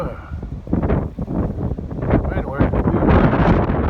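Strong wind blows outdoors near water with waves, buffeting the microphone in loud rushing gusts that swell toward the end, with a voice speaking underneath.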